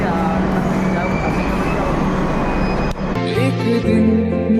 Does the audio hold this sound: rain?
no